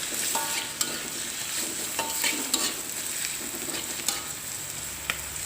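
Small chopped chicken pieces stir-fry in a hot wok for fried kway teow, a steady loud sizzle broken by repeated scraping and clinking strokes of the spatula, close up with no voices.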